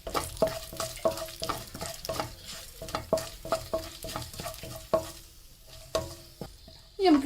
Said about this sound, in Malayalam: നമുക്ക് ഇനി ഇതിക്ക് വറ്റമുളകും കൂടി ആഡ് ചെയ്ത് കൊടുക്കാം.